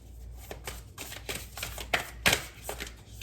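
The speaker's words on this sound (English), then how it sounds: "It's hard sometimes shuffling this deck." A deck of tarot cards being shuffled by hand, with a run of quick papery riffles and soft slaps in an irregular rhythm, close and fairly quiet.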